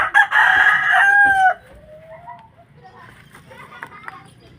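A chicken being settled onto a homemade perch crows loudly and close for over a second, followed by softer scattered clucks and faint voices in the background.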